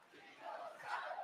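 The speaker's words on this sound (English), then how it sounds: "Io Sky chants ringing out here at Quebec City" Capacity crowd at a Monday Night Raw wrestling show in Quebec City chanting for Io Sky, a broad sustained roar of many voices that swells louder in rising waves across the arena.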